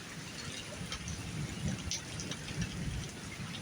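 Heavy rain during a severe thunderstorm in Dundalk, Ontario, a dense, steady hiss of falling drops pattering on surfaces, continuous and fairly close with no talk.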